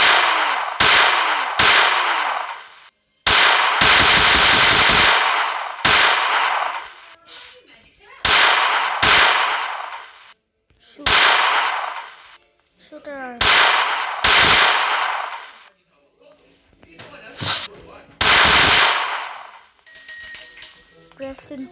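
Gunshots from the Granny horror video game ring out in a string of loud, sharp blasts, several in quick pairs with brief gaps, each ending in a short ringing tail, with faint chimes near the end.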